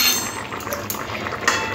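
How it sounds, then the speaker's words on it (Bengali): Cumin powder being stirred into a thin fish curry (bata fish with kohlrabi) in a pot, with a steady bubbling, liquid simmer and soft clinks of a spoon against the pot throughout. "জিরের গুঁড়োটা ভালো করে মিশিয়ে নেব।"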